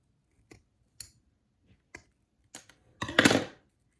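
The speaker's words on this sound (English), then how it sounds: "I'll just cut the excess" Scissors snip off the excess material of a handmade holiday ornament: several crisp, isolated clicks spaced about half a second apart, then a longer rasping cut, close and alone.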